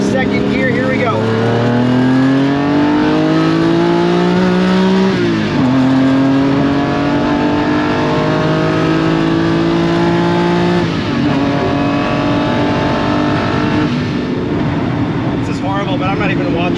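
A Lamborghini Countach accelerates at full throttle from the top of second gear on a racetrack: a loud, close engine howl climbs in pitch, drops with two gear shifts, and climbs again.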